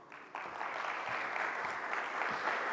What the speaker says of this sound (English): So ladies and gentlemen, please, a round of applause, Mr. Barack.